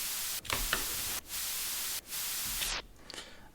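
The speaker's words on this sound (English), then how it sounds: "White noise just over the top of it." A white noise layer in an electronic music track, a loud broadband hiss chopped into gated blocks with brief dropouts and swells, ending in a quieter tail.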